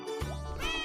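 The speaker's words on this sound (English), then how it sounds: "Cat." A cat gives one short, clear meow, close and alone with nothing else around it.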